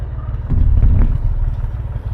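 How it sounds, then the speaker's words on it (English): A tractor engine chugs low and close as it eases forward, its rumbling throb swelling briefly then settling into a steady idle-like putter. "I'll move the tractor forward just a little bit more and let's see what it'll do."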